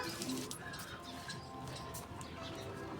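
Pigeons cooing close by, soft low murmuring calls repeating over a steady background hum.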